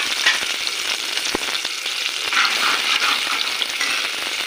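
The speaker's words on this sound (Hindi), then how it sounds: "ये मैंने ऑयल डाल दिया 4 चम्मच, उसमें लहसुन अदरक थोड़ा सा 1 चम्मच डालूँ" Garlic and ginger frying in hot oil in a pan on a low flame, a steady close crackling sizzle with faint stirring clicks, no voices.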